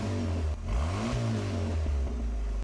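A supercharged 3.8 liter V6 swapped into a Pontiac Fiero revs hard and close, its loud engine note rising and falling in a steady roar before cutting off abruptly.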